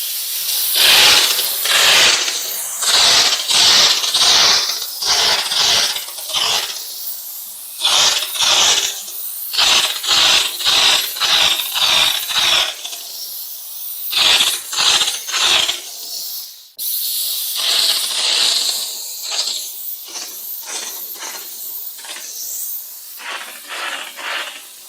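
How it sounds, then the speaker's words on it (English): A Bissell Steamshot Deluxe steam cleaner sprays steam onto tile in loud, repeated hissing bursts, some short and some longer, with brief pauses between, close and alone. "Once the pressure is built, you see, it has a lot of force behind that steam."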